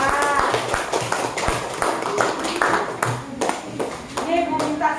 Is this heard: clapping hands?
yes